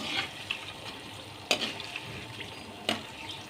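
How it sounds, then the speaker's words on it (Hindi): Papdi frying crisp in hot oil, a steady soft sizzle and bubbling with occasional sharper clinks of a utensil against the pan, fairly quiet and close. "आप देख रहे होंगे इनकी आवाज़ से ये कितनी खस्ता करारी बन रही है।"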